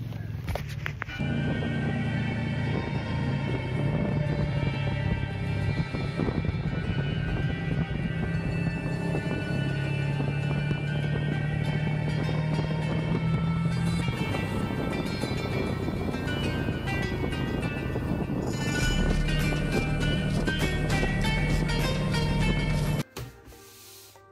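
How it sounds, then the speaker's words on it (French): A motorcycle rides a mountain road in the Atlas, Morocco. A steady, droning engine hum runs close and continuous for the whole stretch, shifts pitch now and then, and cuts off abruptly near the end. "on attaque enfin les belles routes à moto"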